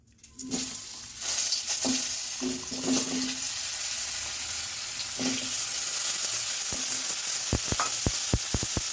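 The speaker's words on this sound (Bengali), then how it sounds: "এবার আলুগুলো ভাজবো এই তেলটার মধ্যে আলুগুলো দিয়ে দিচ্ছি" Potato pieces drop into hot oil left from frying fish and sizzle loudly and steadily, close up, with a few clinks of a spatula near the end and no talk.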